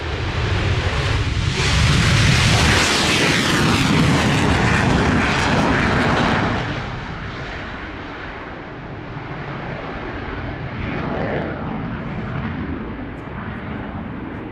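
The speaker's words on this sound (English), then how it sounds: "coming up for you right now, we have a Polish F-16" A Polish Air Force F-16 fighter jet at the Royal International Air Tattoo air show, a loud roaring pass that swells and then settles into a sustained, slightly fainter engine rumble.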